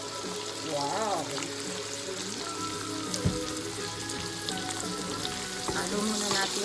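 Pork sizzles loudly and steadily in a pan while it is stirred, a continuous close frying hiss with occasional scraping and clattering, and brief speech in the background.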